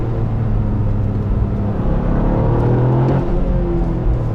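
Toyota GR Yaris with its turbo engine pulling under acceleration, heard from inside as a loud, steady low rumble and whir with rising engine tones, no voices over it.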